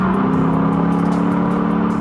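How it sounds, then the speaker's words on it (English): Steady engine note from the exhaust of a modified Lexus IS F V8 at around 3500 RPM in fifth gear, a continuous loud low drone with a slight rhythmic pulse, close and sustained throughout with no voices over it. "there is a really distinct difference in the sound of the exhaust"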